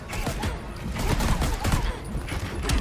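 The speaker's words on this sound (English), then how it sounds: "bullets." Rapid bursts of Deadshot's gunfire in Injustice 2 during a top-8 tournament match form a dense, continuous crackle mixed with other busy fight sounds.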